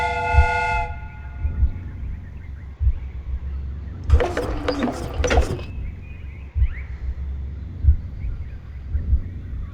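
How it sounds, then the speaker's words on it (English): A replica train's steam whistle in the Sherlock Holmes: Crimes and Punishments video game gives a short, loud, breathy hoot, with mechanical hiss and clanking around it and steady low thumps throughout. "The steam whistle is ready to be used."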